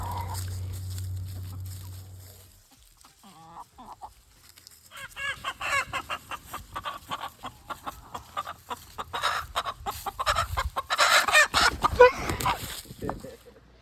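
Several chickens cluck and squawk in a busy, irregular chorus nearby, with a low hum fading out at the start before the birds grow louder.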